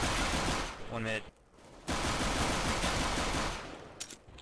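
P90 submachine gun fire in CS:GO on Dust II, rapid automatic bursts at close range with a brief gap, plus a short rising tonal game cue before the shooting resumes.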